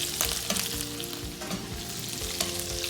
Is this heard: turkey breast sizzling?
yes